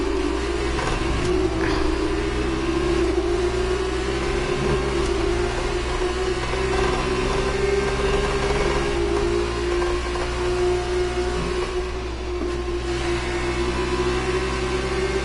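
A racing car engine in a driving video game holds a loud, steady high-revving drone, its pitch wavering and dipping briefly at a few points as gears change, alone without talk.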